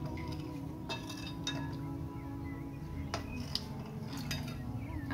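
A spoon mixes ingredients in a bowl for pani phulki, giving repeated light clinks and scrapes against the bowl at an uneven pace over a low background hum, fairly faint and close with no talking.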